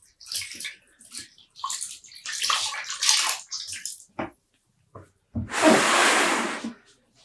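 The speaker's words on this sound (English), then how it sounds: "squeezing out some water" Water gushes and splashes for a second or two as a skein of wet, freshly dyed yarn is squeezed, following a series of small drips, rustles and handling sounds.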